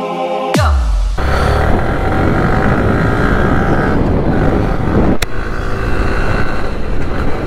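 A motorbike engine drones continuously while the bike is ridden, loud and close, with a steady roar and rushing wind and a sharp burst near the start.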